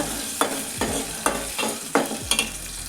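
Tomato paste fries in a pan for peanut sambar while a spoon stirs it, six rhythmic scraping strokes cutting through a soft sizzle.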